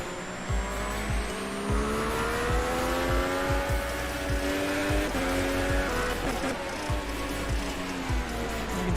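F1 race car engine from the F1 2021 video game, screaming loudly through high revs with repeated sharp gear shifts and brief tire squeal as the car sweeps a wide turn onto the main straight at the French GP.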